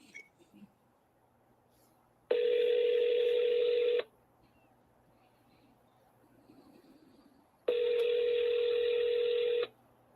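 Two long, loud steady telephone tones, each about two seconds, sound on a line during a forwarded phone call, separated by a quiet gap with faint background noise.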